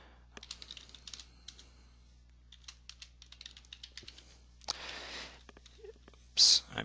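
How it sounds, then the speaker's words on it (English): Computer keyboard typing comes in bursts of quick, light key clicks, close and quiet, as fake information is entered into a form, with a few louder clatters and short pauses between runs. "I'm just going to type in some fake information here."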